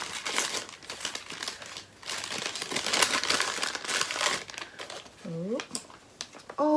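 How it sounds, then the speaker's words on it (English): Plastic packaging from a Giddy Yarns yarn advent calendar crinkles and rustles loudly up close during unwrapping, with someone talking over it and briefly making a playful vocal sound near the end. "Sorry for the crinkling."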